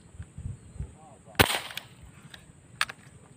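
An airgun fires once during an outdoor fish hunt, a sharp, sudden crack standing out from quiet background and scattered noises, followed later by a smaller click.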